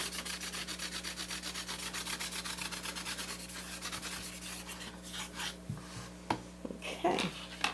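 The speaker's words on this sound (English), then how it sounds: "I'm just going to burnish this down with a tennis ball." A tennis ball is rubbed firmly back and forth over a painted, dry-brushed turtle sign, producing close, rapid, rhythmic scrubbing strokes that slow and break into scattered handling knocks and scrapes toward the end.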